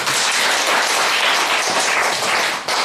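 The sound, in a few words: audience applause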